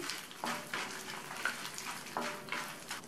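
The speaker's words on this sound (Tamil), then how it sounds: "பருப்போட கலர் லைட்டாக மாறி வரும்போது இது கூட 6 காஞ்ச மிளகாவையும் சேர்த்து வறுத்துக்கலாம்" Dal roasting in a pan with six dried red chillies, a soft continuous sizzle broken by a few sharper stir or scrape bursts at regular intervals, fairly quiet and without talk.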